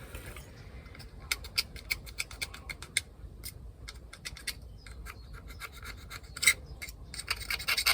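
Old gasket material being scraped off an aluminium surface on an Eberspächer Hydronic DS4W diesel water heater: repeated short, crisp rasping strokes in an irregular rhythm, close up, with no talking.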